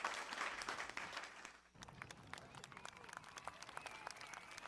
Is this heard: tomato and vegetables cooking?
no